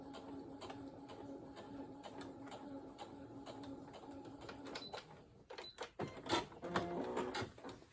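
A home sewing machine stitches through pieces of a king-size quilt, with a rhythmic run of needle clatter that turns louder and choppier near the end, and a voice speaks briefly.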